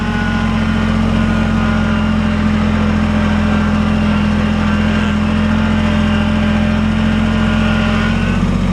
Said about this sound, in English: going to turn the tractor off. The noise is going to kill the audio.